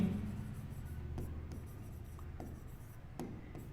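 Pen or marker writing an equation for a class 10 real numbers maths exercise, a faint series of short scratchy strokes and taps spaced irregularly over a low hum.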